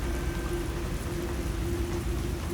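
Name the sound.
rain on a dark road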